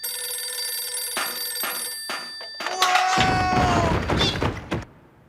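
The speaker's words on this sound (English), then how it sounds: "like phones that give you a dial tone after you bust your tail to answer them" An old telephone bell rings loudly in a cartoon, a few bursts of bright ringing followed by a clattering thump and crash as the phone is reached, then a fading tail.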